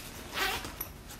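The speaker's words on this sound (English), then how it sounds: "Yeah, and it has like a zipper." A zipper on a store-bought fall decor bag is pulled in one short close rasping stroke, followed by a faint click.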